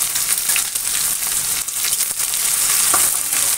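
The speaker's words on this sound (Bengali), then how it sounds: "এবারে পেঁয়াজটাকে আমি লাল লাল করে ভেজে নেব।" Bay leaf, whole garam masala spices and onion frying in hot oil for a mutton curry, a loud, steady, dense sizzle with faint crackles throughout and no talking.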